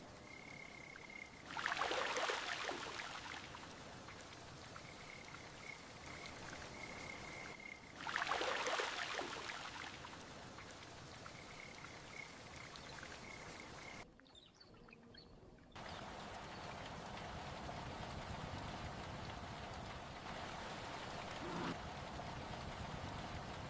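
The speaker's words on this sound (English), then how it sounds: "Some people wait for the rain to pass." Gentle rain falls steadily and quietly, a soft continuous patter with croaking frogs and occasional birds mixed in, heard at low level with two brief louder swells and a short dip partway through.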